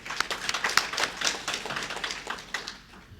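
Audience at a Kenya Diaspora Sacco meeting clapping for the board, a light, somewhat distant patter of hand claps that thins out toward the end.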